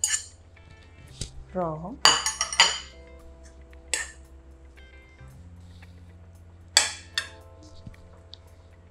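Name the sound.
stirring and mixing food in a dish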